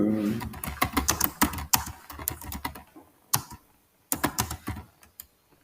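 Keystrokes clatter on a computer keyboard in quick irregular bursts, close and fairly loud, with brief pauses between runs of typing and no talking over them.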